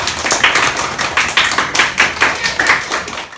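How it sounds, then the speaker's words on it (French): Audience at a children's storytelling event clapping loudly, a dense, close burst of rhythmic applause with pulsing waves, no voices over it. "Tout le monde doit applaudir très fortement."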